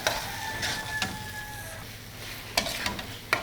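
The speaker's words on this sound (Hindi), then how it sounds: "गोश्त को भूनते हुए यहाँ पर 3 से 4 मिनट हो गए हैं" Dumba mutton fries in its own tail fat in a karahi for Shinwari dumba karahi with tomatoes, a quiet steady sizzle broken by several sharp scraping stirs, with no talk.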